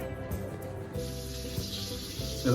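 Running water splashes steadily as raw chicken is washed in clean water, with faint handling noises and no talking.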